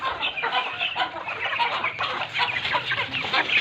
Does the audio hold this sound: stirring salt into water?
no